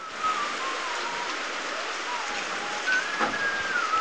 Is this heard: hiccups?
no